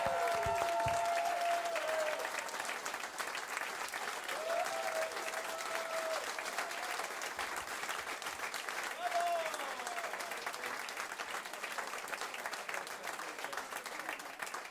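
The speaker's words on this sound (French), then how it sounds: "s'il vous plaît, on l'applaudit et très fort. Allez, plus fort." A show audience applauds loudly and steadily, dense clapping from a large crowd sustained throughout with no break, a few faint tonal sounds drifting in beneath the noise.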